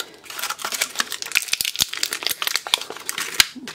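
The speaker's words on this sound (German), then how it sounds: "Ich habe Bock, das Tesafilm mal wieder abzupopeln" Sticky tape is peeled and a plastic bag from a Lego Ninjago magazine is unwrapped close by, giving dense, rapid crinkling and crackling with sharp snaps throughout.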